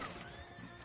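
A video game horse whinnies briefly against a dense, steady layer of game sound. The call is short and close, and nobody speaks.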